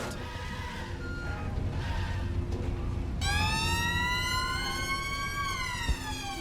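A wailing police-style siren in Watch Dogs: Legion starts partway through and sweeps up and down loudly, over continuous van engine rumble and game background noise in London.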